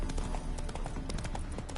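Horse hooves clip-clop in a steady trotting rhythm in the video game The Witcher 3: Wild Hunt, Hearts of Stone, near and continuous throughout.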